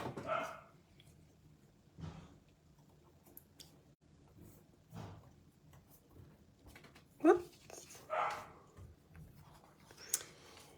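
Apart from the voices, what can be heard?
dog barking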